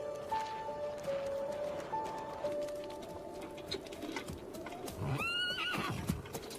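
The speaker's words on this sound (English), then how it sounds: "I'll hitch up the horse." A horse neighs and whinnies near the end, with faint clip-clop of hooves as it is hitched for travel, set against steady outdoor ambience with birds cooing in the background.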